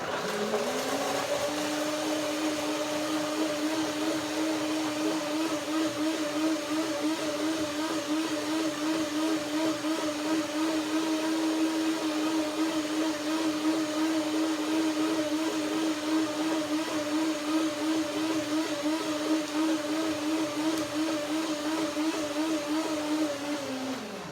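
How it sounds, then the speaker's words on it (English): A blender runs continuously for about 24 seconds, blending cashews and banana with a little water into a cream dressing; a steady, loud motor whir with a strong pitched hum and no talking. "So I put a little bit of water, just a little bit, to make it a little bit easier to blend."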